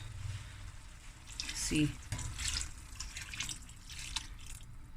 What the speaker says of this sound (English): I added hot water